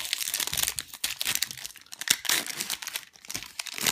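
Crinkly foil of a Pokémon Mega Gengar booster pack being torn and crumpled open, a continuous close rustle with sharp crackling bursts and no voices.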